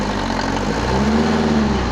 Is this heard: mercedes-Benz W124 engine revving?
yes